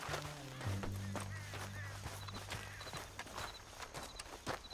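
Horse hooves clip-clop at a walk in the Red Dead Redemption 2 western game, a steady mid-distance patter of impacts under a low droning score and some faint game voices.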